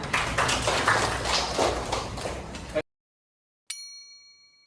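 A school bell in a classroom gives a single bright metallic ding that rings out and fades after a stretch of noisy room sound and a brief silence.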